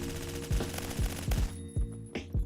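HK416 rifle gunfire in Phantom Forces: six or seven sharp, punchy shots in a short irregular burst, close and loud, over a steady background of in-game ambience.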